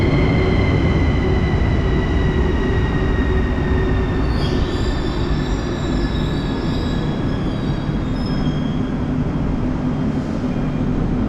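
A metro train in a Bucharest station rumbles loudly and steadily, with high metallic wheel squeals drawn out over the noise, no voices present.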